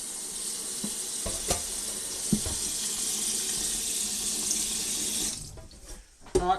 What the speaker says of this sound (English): I'm going to pour a little bit of water in there.